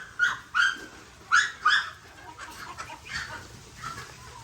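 Domestic chickens kept at home clucking in a few sharp, close bursts, followed by softer, scattered clucks fading into quiet.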